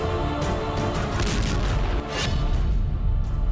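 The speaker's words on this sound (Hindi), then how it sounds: "एटमी धमाका" A massive, sustained roaring blast, dense rumbling noise filling the whole sound with no pause, an atomic explosion sound effect.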